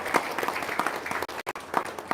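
Audience applause at a motivational seminar in Indonesia, a soft, steady patter of clapping from a smallish crowd, fairly quiet and slightly distant, with a brief dropout near the end.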